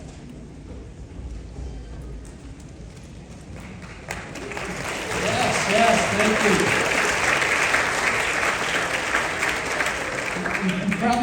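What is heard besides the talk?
audience applauding at a school spring concert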